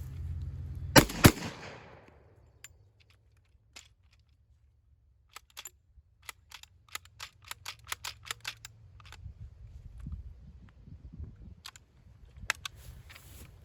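A Panzer Ranch shotgun fed from a drum magazine fires two sharp, loud blasts close together near the start, followed by a long stretch of faint mechanical clicks and handling sounds.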